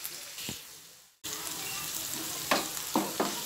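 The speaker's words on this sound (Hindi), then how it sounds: "इसमें अभी हम प्याज ऐड करेंगे। दो हरी मिर्च, इसे हम अच्छे से फ्राई कर लेंगे।" Onion and two green chillies frying in a pan with mustard seeds for tendli fry, a steady close sizzle broken by a sudden cut and a few brief stirring scrapes.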